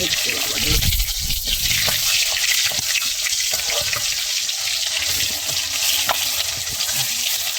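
A snake fish (kuchia) curry with tomato and yogurt bubbles and sizzles vigorously in a pot over a wood fire, a loud, continuous churning hiss close up that runs without pause.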